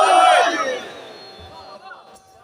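Large religious gathering roaring a loud collective shout in answer to a call from a zakir, a single swelling burst of many voices that fades into murmuring crowd noise.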